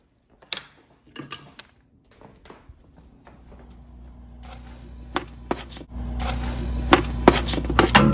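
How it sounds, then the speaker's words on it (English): Oven-roasted butternut squash is stirred in a pan with a spoon: scattered sharp clacks and scrapes at first, then a denser, louder run of knocks over a rising sizzling hiss. "I'm gonna give these a real quick little stir around here."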